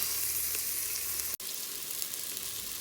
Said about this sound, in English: I usually put about a 1/4 cup of celery in, and just let that saute down with the onions